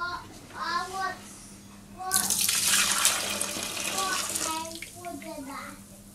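Liquid swished to dissolve ingredients is tipped back into a homebrew chocolate stout fermenter: a loud, rushing splash of pouring that lasts about two seconds, with a person talking just before it and again as it fades.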